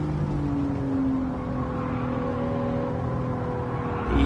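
Race car engine in Gran Turismo 7 at Monza, droning steadily at high revs after a downshift to third gear, with a brief rise in engine noise at the very end.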